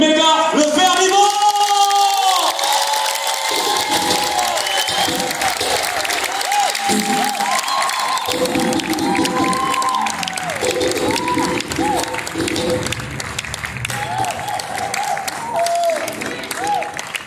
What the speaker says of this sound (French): Est-ce qu'on peut applaudir donc l'arrivée de notre frère de Kinshasa